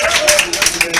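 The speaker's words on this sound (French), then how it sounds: "Donc, il faut vous applaudir." A crowd claps in short bursts at an outdoor political rally in Yopougon, with the uneven patter of many hands and a voice running faintly underneath.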